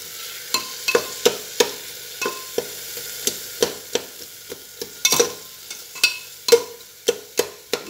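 A spice mixture is sautéed in a pan, with steady rhythmic scraping of a spatula, roughly two strokes a second over a soft, continuous sizzle.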